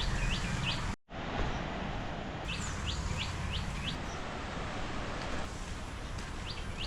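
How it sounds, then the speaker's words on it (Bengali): Birds near the sea at Chandipur beach in Odisha give repeated short, rising chirps in bursts, moderately near, over a steady wash of surf and wind noise, with no talking. "সমুদ্রের স্রোতের শব্দ আর পাখির ডাকের শব্দ মিক্স হয়ে এত সুন্দর লাগছে শুনতে"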